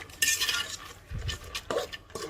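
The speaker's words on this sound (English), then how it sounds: "So we're just gonna mix everything together" A spoon stirs a peanut mixture in a cooking pot, giving a few scraping, clinking strokes that come in short bursts, close and moderately loud, with no talking.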